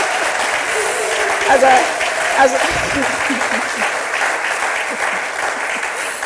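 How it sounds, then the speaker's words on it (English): An audience applauds an outfit in a brief burst of clapping, moderately loud and close, overlapping someone talking throughout. "can we get some applause for the outfit?"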